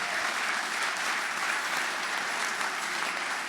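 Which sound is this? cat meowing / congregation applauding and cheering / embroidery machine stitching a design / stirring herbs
congregation applauding and cheering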